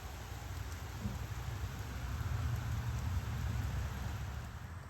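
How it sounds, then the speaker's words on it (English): Rain falls outdoors on a June afternoon as a soft, steady wash of patter with a low rumbling undertone, swelling slightly midway, no voices. "Rain."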